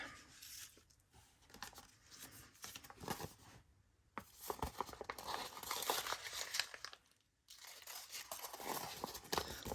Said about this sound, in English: Sometimes I crumble things up so they don't look quite so new